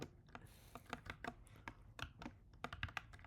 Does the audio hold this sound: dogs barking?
no